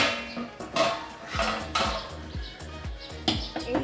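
Metal clatter as a lid goes back onto a cooking pot with food boiling inside, several clinks and knocks spread over a few seconds above a steady kitchen background.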